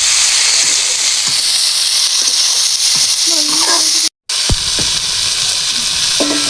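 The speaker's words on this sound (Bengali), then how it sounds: "এবার টমেটো আর পেঁয়াজগুলো ভালো করে একটু কষিয়ে নেবো আলুর সাথে, আলু আর ঝালের সাথে।" Potatoes, tomatoes, onions and chili fry together in a hot pan, giving a loud, continuous sizzling hiss broken by occasional utensil knocks and one brief dropout in the sound.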